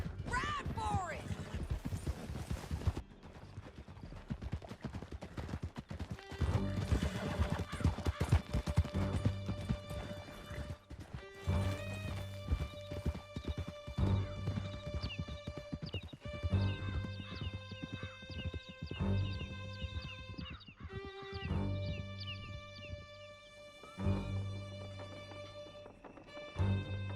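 Horses gallop hard with rapid clip-clop hoofbeats and occasional whinnies in Red Dead Redemption 2, a loud, steady pounding that runs throughout under a layer of in-game music, with voices shouting over the ride.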